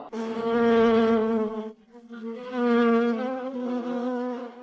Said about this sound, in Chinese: 你又在训练蜜蜂吗？